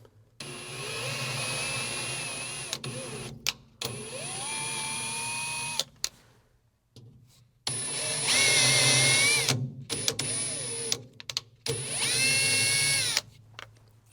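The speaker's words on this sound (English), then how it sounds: "I'm going to go ahead and tap these holes as well." A power drill taps screw holes in a monster truck box, whining in several long loud runs with rising pitch, separated by brief pauses.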